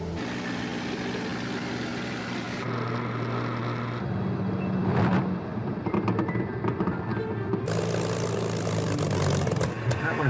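A two-seater Spitfire's propeller engine drones steadily and loudly throughout, with a shift in pitch and intensity partway through and rushing wind noise building toward the end.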